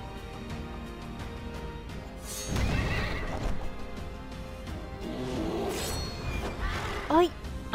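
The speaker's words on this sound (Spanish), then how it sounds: "el caballo este, no me fío nada yo de sus embestidas" A horse enemy in the video game Child of Light gives a loud whinny and snorting amid battle sounds, with a commentator speaking over the game audio.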